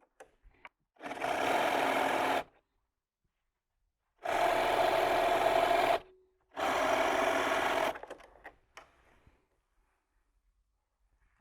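A sewing machine stitches quilt pieces together in three steady bursts of about one and a half to two seconds each, separated by quiet pauses. The whirring is close and even, with no talking.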